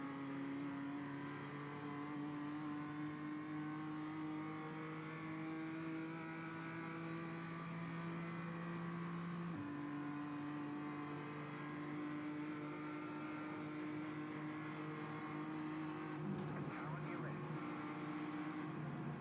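BMW M2 CS race cars lapping the Nürburgring in an iRacing sim race: a sustained droning engine note with shifting pitch and a gear change midway, under continuous talking.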